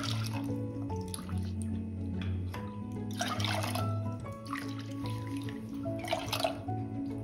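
Water is poured into washed barley in a pressure cooker, giving quiet splashes and irregular trickling drips close by.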